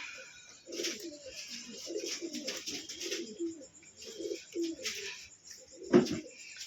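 Racing pigeons kept for sale coo softly and repeatedly in a loft, with a steady run of low, throaty coos from several birds and one louder call near the end.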